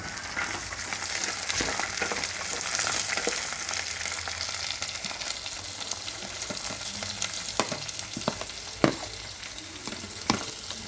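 Chopped green beans and vegetables frying in a pan for vegetable fried rice give a steady, fairly loud sizzle with occasional stirring clicks and scrapes, no talking.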